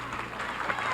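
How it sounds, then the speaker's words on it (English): The Mineral Point crowd at a wrestling match cheers and applauds in a brief, steady burst of mixed clapping and voices, heard from within the gym. "The Mineral Point crowd is starting to rally as time runs out here in the second period."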